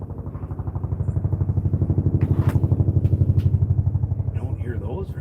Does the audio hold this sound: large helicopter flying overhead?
yes